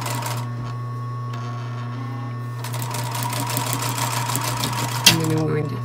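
A sewing machine stitches a sleeve seam on a tiny orange sweater, running with a steady rapid mechanical whir close by, speeding up before a brief stop while a person talks over it.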